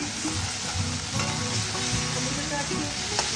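Tomato frying with browned onion masala in a pan, a steady close sizzle with scraping stirs throughout and a few clinks of the spatula against the pan.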